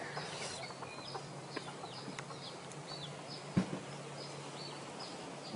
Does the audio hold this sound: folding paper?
no